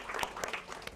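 A quick burst of several hand claps for a film trailer, faint and short, as in a small audience or panel setting.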